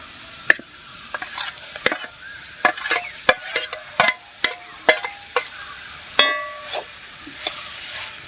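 Crushed garlic, ginger and green chilli stirred with onion in a hot pan, a steady sizzle broken by repeated sharp scraping and clattering strokes of a spoon against the pan, close and fairly loud.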